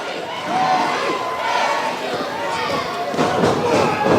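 A wrestling arena crowd cheers and roars steadily through a played back match, with thuds and a louder rise near the end, under talk from nearby voices.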